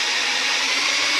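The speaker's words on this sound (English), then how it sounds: "I'm just going to take a little drill bit and drill that out." A small drill bit bores out a peened gauge housing from a Caterpillar D4 4G bulldozer, giving a steady, loud, high-pitched power-tool whine that holds unbroken throughout.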